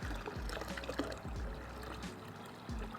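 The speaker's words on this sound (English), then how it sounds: "I'm going in with our last couple of litres of cold water" The last couple of litres of cold water are poured into a home brewing bucket for a beer kit, making a steady close splashing gush with a few heavier sloshes and low thumps.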